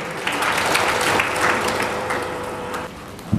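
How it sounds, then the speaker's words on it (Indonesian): An audience at a commemorative event applauds warmly, dense clapping that holds steady and then tapers off near the end. "Kita kasih tepuk tangan buat Pak Tamrin."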